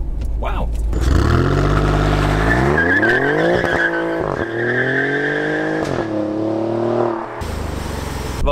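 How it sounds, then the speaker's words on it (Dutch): An Alfa Romeo Giulia Quadrifoglio roars up through the revs close by, tires squealing as the wheels spin during hard acceleration without launch control, with a brief exclamation over the engine. "Oh, wel een lekkere acceleratie. Goede wielspin eigenlijk."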